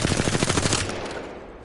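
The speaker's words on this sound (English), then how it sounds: "I'm just going to pull the trigger and let the gun shoot." A 301 rifle fitted with a purple barrel stabilizer fires full-auto in a video game: a loud, rapid burst of gunshots in steady succession for under a second, then a fading tail with no talk.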